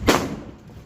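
A single Diwali firecracker bursts with a sharp, loud thump near the start, then fades into a low rumbling tail.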